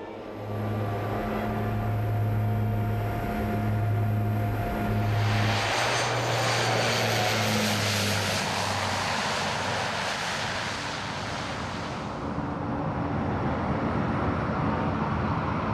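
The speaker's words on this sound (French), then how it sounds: "L'avion de la semaine est le seul lien de Kili avec le reste du monde." A propeller airplane droning past on its weekly supply flight to Kili island in the Pacific, a loud steady engine hum that swells and then fades over about sixteen seconds, with no talk.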